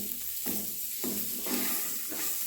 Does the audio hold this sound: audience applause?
no